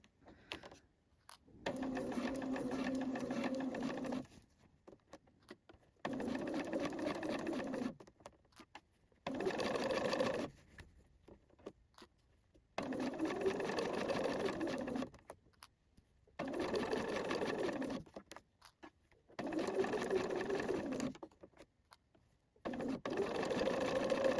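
A sewing machine runs in repeated bursts of a few seconds each, stitching the side seam of a top, with short pauses between runs and a steady rapid whirring close by.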